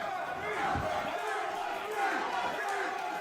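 Wrestling crowd at a WWA4 live event rumbling and shouting steadily, a dense sustained roar with a few sharper swells, while a commentator's voice runs over it.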